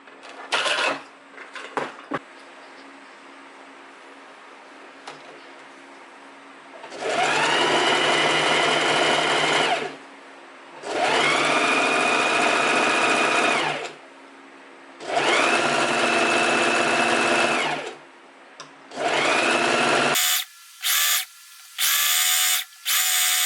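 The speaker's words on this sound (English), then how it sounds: "First we need to change the settings of our sewing machine." A sewing machine stitching fabric for a gathered maxi skirt runs in four loud, steady whirring bursts of about three seconds each, separated by pauses with faint handling clicks, ending with several short stitch spurts, close up.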